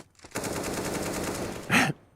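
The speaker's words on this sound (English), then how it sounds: "Just some wild wall bangs coming out." Rapid automatic gunfire from wall-penetrating shots in a Counter-Strike esports match rattles in a fast, even burst, ending with a louder, heavier final shot.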